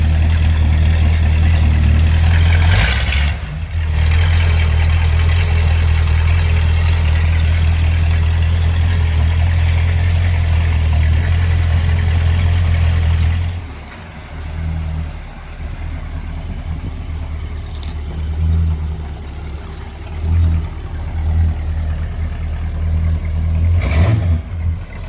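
A 1968 Dodge Monaco with a 440 Magnum V8 and a complete TTI exhaust system idles loudly and steadily with a deep rumble, dipping briefly then settling back, with a couple of short blips along the way.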